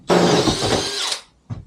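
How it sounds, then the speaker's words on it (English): A power drill bores out a hole in a kitchen panel for a Mercedes Sprinter van conversion, one loud, close burst of whirring and cutting lasting about a second, then a short stop and a brief restart. "So I can actually drill this out with the right size now."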